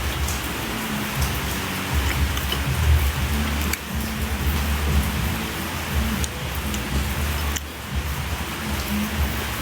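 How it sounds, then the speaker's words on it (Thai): Steady, heavy rain pours continuously, a dense close hiss with occasional louder spatters and no voices. "วันนี้ฝนตก"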